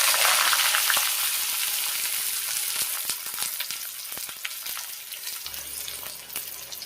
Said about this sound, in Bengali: এখন কুচানো আমি পেঁয়াজ কুচিটা দিয়ে দেবো